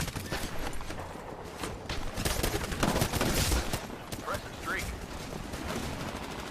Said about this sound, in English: So you're sitting there putting half a clip into a pilot in order to kill him